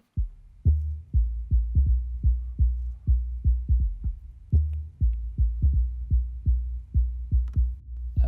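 A deep, pulsing synth bass plays short repeated notes in a steady rhythm, each thump decaying quickly, alone and fairly loud.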